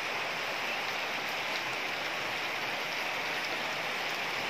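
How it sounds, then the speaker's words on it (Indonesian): Heavy morning rain pours in a steady, dense hiss that stays even and close for the whole stretch, with no voices over it. "Udah mulai hujan deras."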